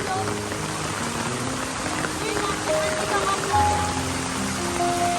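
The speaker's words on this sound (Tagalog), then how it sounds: "Tapos itong ulan na to, marami pang ibabagsak." Steady rain from Typhoon Kristine pouring down, a dense continuous hiss of drops on surfaces, with faint tonal sounds and occasional distant voices mixed in.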